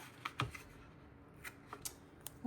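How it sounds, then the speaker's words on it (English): Strips of tear and tape adhesive being handled for a paper candy box craft, a few short crisp tearing and peeling snaps spread across a quiet moment, close by. "I'm just going to go ahead and use some tear and tape."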